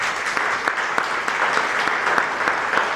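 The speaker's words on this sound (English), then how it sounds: "I want you all to give them all one more round of applause" Dense applause from an audience clapping for speakers at a panel discussion, steady and fairly close throughout, with a faint voice underneath.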